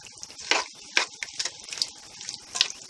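A spoon stirs chopped pineapple and pectin in a cooking pot, giving repeated wet sloshing and scraping strokes close up, with no voices.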